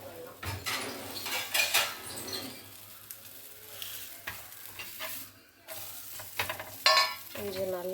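Food frying in a pan is turned over with a utensil, giving irregular scrapes and clatter against the pan over a light sizzle, close and intermittent.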